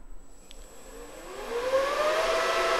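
The fans of a homemade wind simulator spin up to full speed with a rising whir. It starts faint, then swells into a steady, loud rushing whine with an upward-sweeping pitch and no talk.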